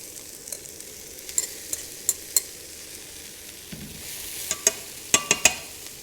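Beef stir-fries in a pan, a low continuous sizzle under repeated sharp clicks and scrapes of a utensil stirring, growing busier toward the end.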